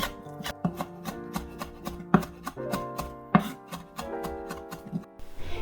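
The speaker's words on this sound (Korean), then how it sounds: "그리고 곱게 다져 주세요." A knife rapidly minces deseeded vegetables on a cutting board, a dense run of sharp, close chopping taps in quick rhythm with brief pauses, no voices.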